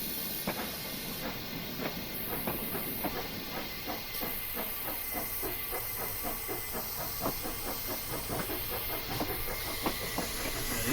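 Steam locomotive with Stephenson valve gear and slide valves in the Train Simulator Classic game, passing with a hissing exhaust and a steady run of rhythmic chuffs and clicks, moderately quiet, with no voices.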